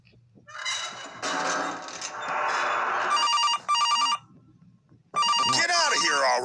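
A telephone rings in the horror video game Case Animatronics, its bright repeating ring coming in separate bursts with pauses between them, mixed with other loud game sounds.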